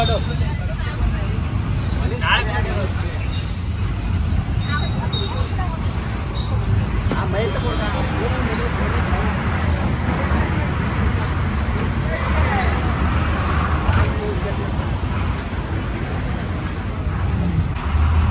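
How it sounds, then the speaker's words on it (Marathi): Heavy road traffic with buses on a crowded highway near Nalasopara, a steady dense roar of engines and tyres throughout, with voices and chatter mixed in. "फुल ट्रॅफिक आहे आता."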